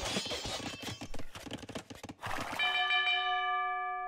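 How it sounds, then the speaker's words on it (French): A town bell rings in a strategy video game: rapid clip-clop hoofbeats of horses give way to a single clear bell strike that rings on and fades. "Une petite cloche."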